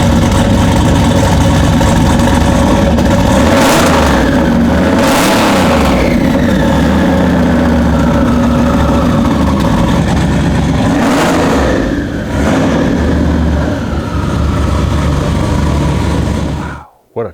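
A 1984 Audi 4000 rally car, a roll-caged home build, starts and idles loudly up close, with several sharp revs rising and falling before the engine cuts off abruptly at the end.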